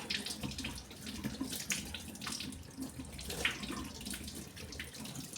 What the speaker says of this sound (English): I'll wash my tomatoes.